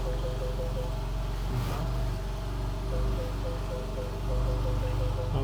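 A Porsche engine hums low and steady while the car pulls away, a smooth mid-level drone with slight swells as it gathers speed, fairly faint with no talking.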